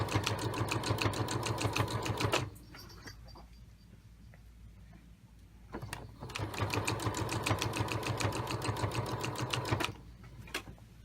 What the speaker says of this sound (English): basically you just sew all the way through, and preferably not get your needles caught in your machine